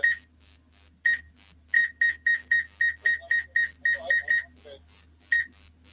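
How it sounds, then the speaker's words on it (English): A steady series of sharp, high electronic beeps repeats in a regular rhythm, loud and close, with a brief pause early on. "no more beeping after this, by the way"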